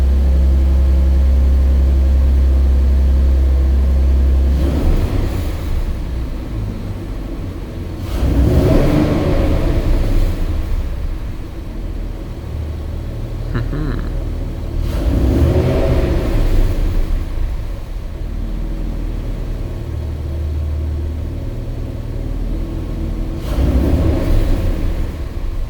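A twin-turbo Mustang engine revved with no load, giving several rising revs spaced a few seconds apart over a deep steady idle rumble, loud and close, with no voices.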